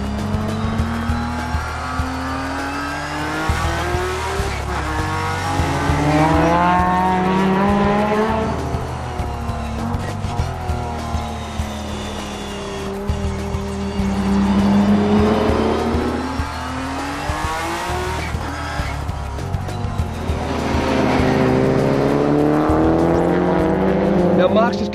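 Race cars lapping Tsukuba circuit during open practice, engines revving up and down through gears continuously with loud passes and tire squeal, a voice talking over the track noise throughout.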